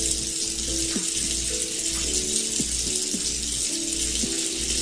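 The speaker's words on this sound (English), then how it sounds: "Honestly, the water's still running." A steady, even rush of water running from a tap in the Roblox video game, filling the whole stretch without a break, with faint tonal blips layered over it.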